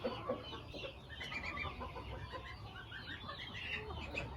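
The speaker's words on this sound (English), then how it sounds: "Well, that's a rooster though." A rooster and hens cluck softly at a small backyard poultry farm, scattered faint calls in a quiet yard.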